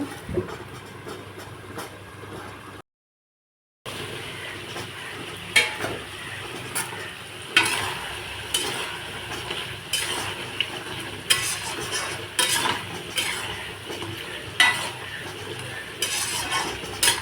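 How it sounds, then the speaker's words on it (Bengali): Meat being kosha-fried in a pan, with continuous scraping and stirring over a bright, steady sizzle and occasional sharper clinks, close and with no voices. "এরকম মাংস কষানো হয়ে গেছে, আর একটু কষাবো"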